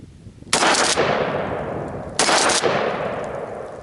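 Two loud, close 12 gauge shotgun blasts firing birdshot at steel targets, each sharp report followed by a long decaying rumble and echo outdoors, with no talking.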